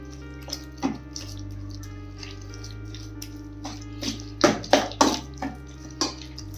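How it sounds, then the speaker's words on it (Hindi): Water poured from a cup into a wheat flour and yogurt batter in a home kitchen, a soft running trickle with a few clinks of utensils against a bowl, close and moderately loud with no talk. "आधा कप पानी डालेंगे पहले और आधा कप पानी डालकर मिलाएंगे"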